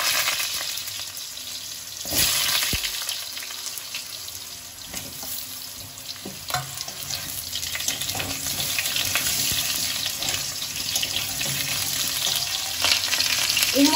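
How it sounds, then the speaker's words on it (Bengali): Cut potatoes are added to hot oil seasoned with five-spice and fry with a loud, steady crackling hiss, joined by occasional stirring clatter and a burst of sizzle as they hit the pan. "দেখুন, এবার আমি কেটে রাখা আলুগুলো দিয়ে দিই।"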